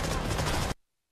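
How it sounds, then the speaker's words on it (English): A burst of explosive game gunfire and blast noise from an exploding throwing knife in Call of Duty Black Ops 6, loud and dense for about three quarters of a second before cutting off abruptly to silence. "Was that a throwing knife with an explosion connected to it?"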